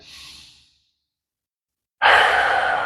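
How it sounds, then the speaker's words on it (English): Pilates-style breathing: a soft inhale through the nose fades into a pause, then a strong, steady exhale out through the mouth, close to the microphone. "breathe in through the nose, high and wide to the rib cage, and out through the mouth"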